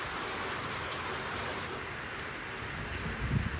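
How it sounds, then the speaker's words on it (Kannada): Heavy rain pours steadily beside a lake in Jaipur, a dense, even roar of falling water close by with a slight swell near the end and no voices. "ಇದಿಷ್ಟು ಹೆವಿ ಮಳೆ ಅದ"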